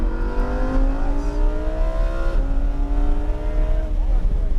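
A Lamborghini engine at full throttle on a race track at PBIR, a loud, close, continuous roar with a steadily rising pitch, briefly dipping at a gear change, while a voice talks over it.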